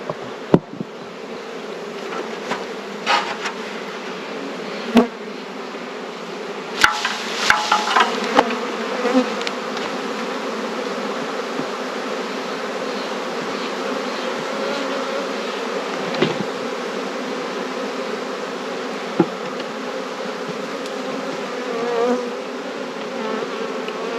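A swarm of honey bees buzzing steadily around a hive as frames are shaken, a dense continuous drone with scattered sharp knocks and taps throughout.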